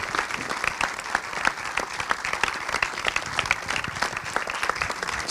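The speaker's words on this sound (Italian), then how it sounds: "Un grande applauso per Peter Kerekes e tutto il cast di Wishing on a Star" Steady applause from a film screening audience for director Peter Kerekes and the cast of Wishing on a Star, many hands clapping continuously at moderate loudness.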